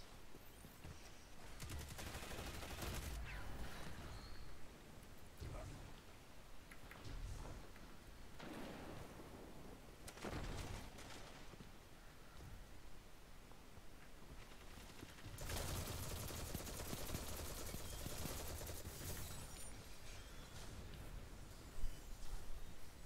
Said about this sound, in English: Ah, scatter grenades.